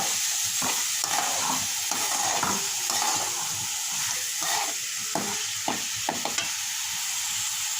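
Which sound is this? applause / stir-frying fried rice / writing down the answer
stir-frying fried rice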